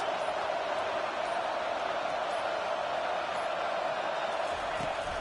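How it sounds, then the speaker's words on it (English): A dense stadium crowd at an Auburn versus Wisconsin college football game roars in a steady, unbroken wash of noise that holds at an even level throughout, loud yet diffuse and distant. "Listen to this crowd just shaking the girders of this place, trying to help their defense."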